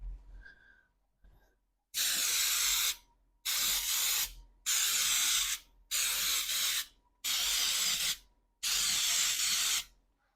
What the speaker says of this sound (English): I like the no stick spray for baking that includes flour.